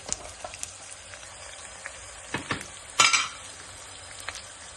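Onions frying with salt while being stirred in a pan for an ivy gourd curry, with a soft steady sizzle broken by sharp clinks and scrapes of a spoon against the pan, one louder scrape near the middle.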